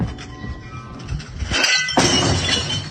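Jack Daniel's glassware shatters in two loud, close crashes, with shards clinking and scattering afterward over a low background.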